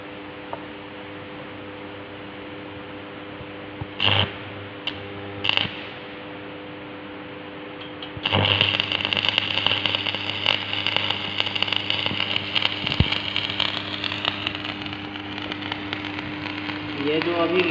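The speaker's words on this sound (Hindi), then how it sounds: "दूसरे साइड से अब वेल्ड करते हैं।" Arc welding on the second side of a joint in a welding shop: a steady, loud crackling buzz starts partway through and holds to the end, over a constant electrical hum, after a few brief bursts.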